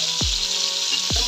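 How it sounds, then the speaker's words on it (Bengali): Crabs mixed with salt sizzle and fry in hot oil, a steady bright hiss with a couple of brief low thumps as pieces shift in the pan. "একটু করে আমরা এগুলাকে ফ্রাই করব। সবগুলো কাঁকড়া একেবারে দিয়ে দেওয়া হয়েছে।"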